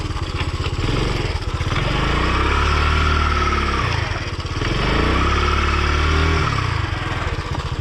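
A motorcycle on a muddy trail revs hard as its rear wheel spins without grip, a loud, close, sustained engine drone that rises and dips in pitch twice, with no talk.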